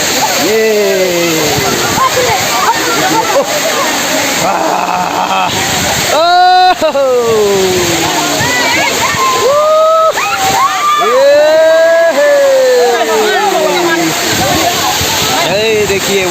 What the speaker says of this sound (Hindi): देखिए वाटरफॉल।